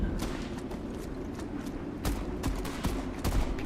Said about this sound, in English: Why is the shooting in this game so good?